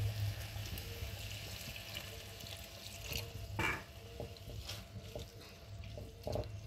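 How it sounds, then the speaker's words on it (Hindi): Water poured into a chicken sauce cooking in a pan, a soft running and splashing pour with a few louder spurts and drips, close and alone over a faint background hum. "थोड़ा सा इसमें हमने पानी ऐड कर दिया।"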